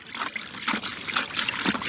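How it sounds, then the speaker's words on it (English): Liquid flavouring poured into water for tench ground bait, a light splashy trickle with several small surges as the stream hits the surface, close and fairly loud. "Don't add it to the ground bait, add it to the water."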